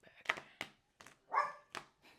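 A small dog barks several times in short, sharp yaps with brief pauses between them, fairly close.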